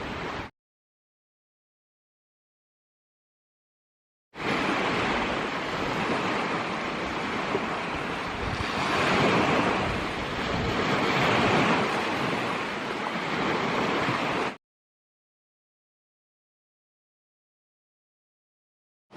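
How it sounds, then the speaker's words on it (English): Heavy surf at the St Lucia estuary washes over a closed road, a steady roaring wash of waves with wind noise, loud and continuous for about ten seconds between stretches of silence. "the estuary is washing over the road like an ocean"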